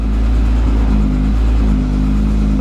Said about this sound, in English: Let's watch this thing just bounce off the limiter.